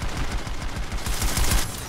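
Gunfire in the video game PlanetSide Arena, rapid bursts of automatic shots in a dense irregular rhythm, loud and close, with no talk.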